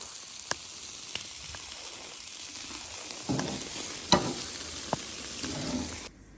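Chicken sizzling over a charcoal fire grill outdoors, a steady crackling hiss with occasional sharp pops, moderately close and without speech.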